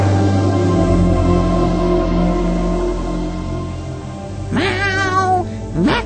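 Over a steady low hum, a cat gives two short meows close by near the end.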